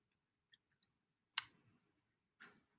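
A few sharp, faint computer mouse clicks spaced apart in a quiet room, one slightly louder than the rest, with no talking.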